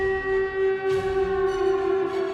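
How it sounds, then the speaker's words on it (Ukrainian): Air raid siren during wartime, a steady sustained wailing tone held throughout, moderately loud and alone. "Постійні повітряні тривоги"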